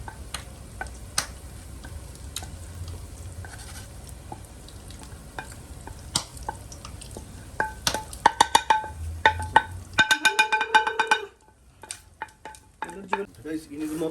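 Chicken biryani mixture frying with masala spices as it is stirred, a steady sizzle under quick scraping and tapping strokes that thicken toward the end before a brief quieter stretch.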